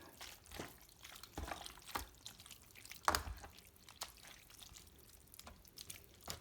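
Spaghetti being tossed with chili sauce in a bowl, heard as soft, wet, irregular squelches and drips, close and quiet with no talking.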